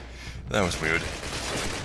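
Gunfire in the video game Call of Duty during a trench battle, a short burst of rapid shots under a voice speaking.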